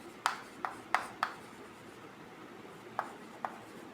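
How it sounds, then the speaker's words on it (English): Pen or marker writing words by hand during a physical science lesson, a few short scratchy strokes separated by pauses, close and fairly quiet with no talking. "And here I want to write vice versa."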